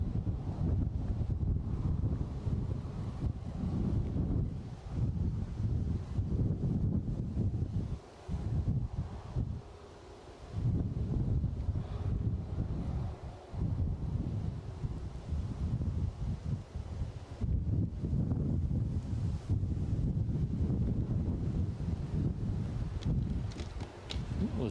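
Strong wind buffets the microphone outdoors at Edinburgh airport, a steady low roar with gusty swells and brief lulls running continuously throughout.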